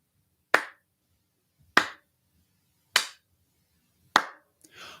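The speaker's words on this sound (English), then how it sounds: "I want you to begin clapping your hands with me" Hands clap four sharp, evenly spaced beats at a steady tempo, close and moderately quiet in an otherwise silent room, with a faint rustle after the last clap.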